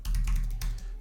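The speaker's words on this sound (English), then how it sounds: "And then I would go type G Sheet token" Rapid typing on a computer keyboard, close and fairly loud, a quick burst of clustered keystrokes with a brief pause near the end, no talking.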